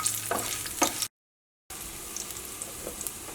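Garlic and coriander sizzle over medium flame in a pan for a Kerala onion-chilli chammanthi, a steady crackle with a few stirring scrapes, broken by a brief silent gap.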